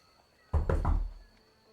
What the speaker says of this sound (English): I'll just rap on the door.